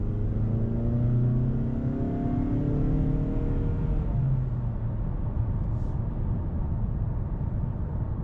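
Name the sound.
2019 Mazda3 2.5 liter engine accelerating, non-sport mode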